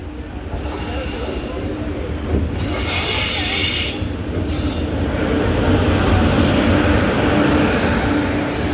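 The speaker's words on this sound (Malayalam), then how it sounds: "WAP7 ആണ് നമ്മുടെ ലോക്കോ" A passenger train hauled by a WAP7 electric locomotive gives a loud, continuous rail roar with a sustained metallic wheel squeal running on top, close by and unbroken throughout.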